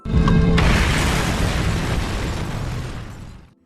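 A film scene has a terrorist's house blowing up in one loud, deep explosion that bursts in abruptly, rumbles at full force and then fades away.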